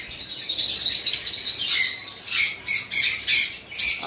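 Fischer's lovebirds, yellow and green lime-mix pairs caged among other birds, give sharp repeated squawks and chirps, starting as continuous chatter and then bursting into loud, clustered calls in the last two seconds.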